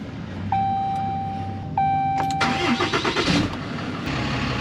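A diesel truck with two new batteries starts up: two steady warning chimes, then the starter cranks in quick rhythmic bursts and the engine catches into a close, rumbling idle.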